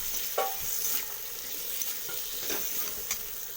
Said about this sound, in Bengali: কচুটা আর আলুটা দিয়ে দিয়েছি এবার ভালো করে নাড়িয়ে কষিয়ে নেব